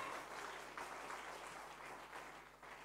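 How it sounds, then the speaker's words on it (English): A church congregation applauds during a worship service, the clapping fairly quiet and distant, a steady rattle with a few louder swells throughout. "Let us applaud the Lord."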